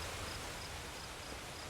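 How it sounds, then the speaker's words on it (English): A loud waterfall in the fantasy video game Pathfinder: Kingmaker rushes as a steady, dense wash of broadband noise, constant and unbroken throughout with no voices. "waterfall is loud"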